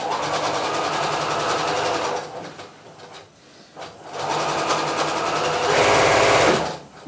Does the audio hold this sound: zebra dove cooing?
no